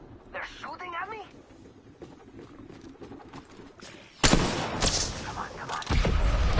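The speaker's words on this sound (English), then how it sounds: "They're shooting at me." Gunfire erupts in the Apex video game, a burst of loud, dense shots arriving after several seconds of quieter game sounds and a voice talking.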